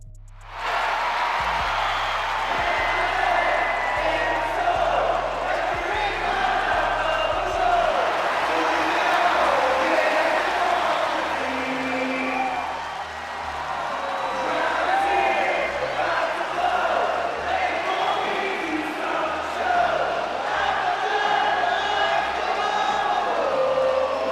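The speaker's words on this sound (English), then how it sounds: "the crowd will now sing along to the music at the start" A large arena crowd in the video game WWE 2K25 chants and sings in unison along with wrestler entrance music, a loud, sustained roar with rising swells that carries on throughout.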